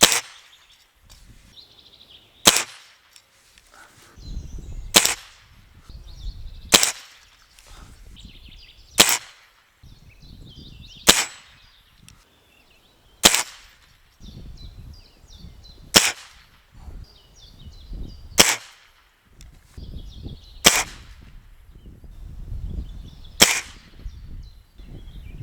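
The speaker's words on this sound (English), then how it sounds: "I was shooting Air Arms Diablo Field 177 pellets through this" An air rifle firing Air Arms Diablo Field .177 pellets at targets gives about ten sharp, snappy shots spaced a few seconds apart, with faint handling noise and distant bird calls between them.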